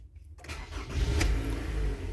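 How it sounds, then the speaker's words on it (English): A Toyota Camry engine is started by push button: a quick cranking catch after a quiet moment, then the engine fires and settles into a steady, close rumble with a slight rev. "I need to start the car, push the button"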